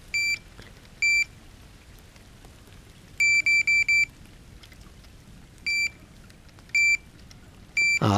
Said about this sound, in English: that's got to move quite a way before I get the beep